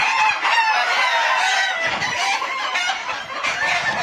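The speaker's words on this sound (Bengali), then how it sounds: "এই মুরগিগুলো কিন্তু খুবই চঞ্চল চঞ্চল প্রকৃতির মুরগি" Fayoumi hens on a poultry farm, a dense chorus of clucking and cackling from many birds close by, continuous and lively with no speech.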